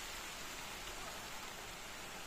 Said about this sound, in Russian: Да, ветер, дождик.